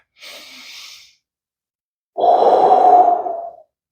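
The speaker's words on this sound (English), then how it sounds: "Now, I want you to take a deep cleansing breath." A deep cleansing breath: a soft, airy inhale lasting about a second, a pause, then a louder, longer exhale sighed out close by, with no talking.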